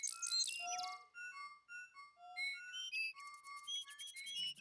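Chirping and whistled bird calls from a bird in the Indiana Jones and the Fate of Atlantis video game, a rapid run of bright tweets and short whistles that keeps going without pause, clear and close with no talk over it.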